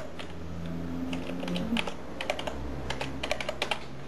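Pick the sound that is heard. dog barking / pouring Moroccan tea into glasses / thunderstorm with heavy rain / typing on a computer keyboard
typing on a computer keyboard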